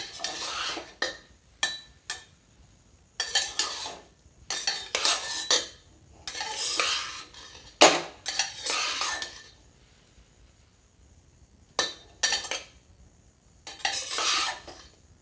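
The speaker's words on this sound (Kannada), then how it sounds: "ಎಲ್ಲ ಮಿಕ್ಸ್ ಮಾಡ್ಕೊಳ್ಳೋಣ ಒಗ್ಗರಣೆ" A spoon scrapes and clanks through tomato rice in a metal pot as tempering is mixed in, in repeated short bursts of stirring separated by quiet pauses, close and fairly loud, with no talk.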